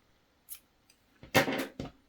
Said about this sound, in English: we are now ready to cut our yarn